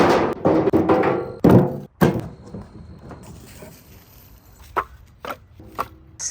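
Cut firewood from a felled tree is dropped into a wheelbarrow, heavy wooden thunks and clunks in an irregular series, loud at first and then sparser and fainter, with no talking.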